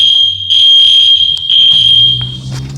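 EST Genesis fire alarm sounding inside a vacant building, a loud piercing electronic tone pulsing on and off close by, with no speech over it.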